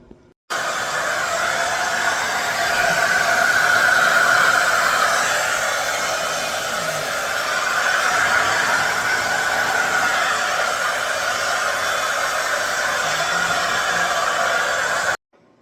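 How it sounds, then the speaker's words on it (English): A hair dryer blows steadily on loc hair, a loud close whooshing drone that rises and falls slightly as it moves and stops abruptly at the end. No talking is heard. "Now I'm gonna go blow dry my hair."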